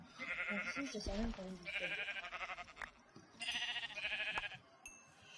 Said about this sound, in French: C'est là, les moutons.